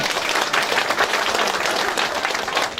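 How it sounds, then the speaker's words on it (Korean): Loud, thick applause from a crowd at a New Year residents' town-hall debate event, a continuous wash of many hands clapping throughout the short stretch. "큰 격려의 박수 보내주시기 바랍니다"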